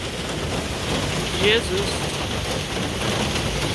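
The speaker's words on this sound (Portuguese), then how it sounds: "Gente, sério, a chuva tá forte." Heavy rain pours steadily during a hurricane in New York, a dense continuous hiss of water with a brief bump midway, while a person speaks a short exclamation over it.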